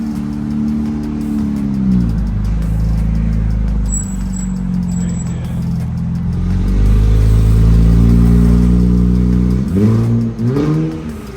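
A 2019 Infiniti Q50 twin-turbo engine running with no exhaust fitted, loud and close, idling then revving hard in several rising and falling pulls, with a deep raw drone throughout.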